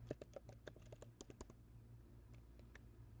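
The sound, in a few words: typing on a computer keyboard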